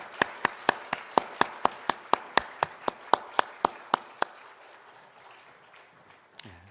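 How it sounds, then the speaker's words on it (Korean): A church congregation at Sunday worship claps in unison, about seventeen crisp, evenly spaced beats, before the clapping loosens into brief scattered applause that fades away. "하나님께 영광의 박수 함께 올려드리겠습니다"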